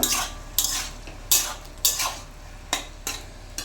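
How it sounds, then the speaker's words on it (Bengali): Ginger paste being stirred in a pan, about seven distinct rhythmic scraping strokes of a utensil against metal over a faint background sizzle, close up with no voices. "আদা বাটা 2 চামচ মতন, ভালোভাবে নেড়ে নেব।"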